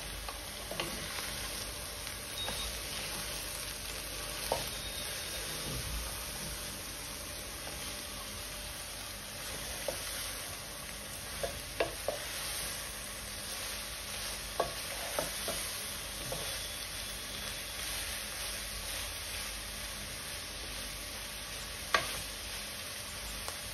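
Vegetables stir-frying in a pan for chicken Schezwan fried rice, a continuous moderate sizzle with occasional utensil taps and scrapes throughout.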